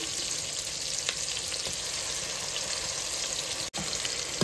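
Kasuri methi frying in a pan for chicken biryani, a dense, continuous hiss of hot oil with faint scattered pops, steady and close with no talking.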